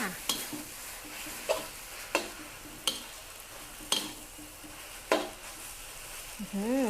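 Pad thai noodles with dried shrimp being stir-fried in a wok: a soft sizzle broken by sharp, regular scrapes and clanks of the spatula about once a second, close up, ending with a brief voice-like sound.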